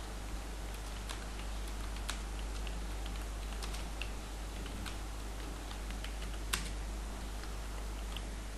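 Light keystrokes patter on a computer keyboard while text is typed into HTML code, a soft, irregular clicking over a constant low hum, no voices.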